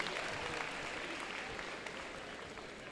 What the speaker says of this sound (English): let's give a round of applause to our number 5 alliance